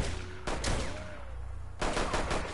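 Rapid gunfire from a PS4 shooter game, loud bursts of shots in two clusters with a quieter stretch between, no talking.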